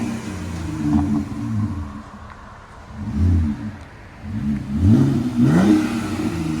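A RAM truck's 3.6L V6 engine is revved several times through an aftermarket Magnaflow-style muffler: deep, rumbling bursts rising and falling, close and fairly loud, with no voices.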